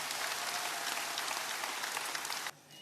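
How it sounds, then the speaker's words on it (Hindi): A crowd at a Bageshwar Dham gathering claps in a dense, loud burst of applause that holds steady for over two seconds, then cuts off abruptly. "जोरदार ताली बजा के धन्यवाद दो इस बच्चे को।"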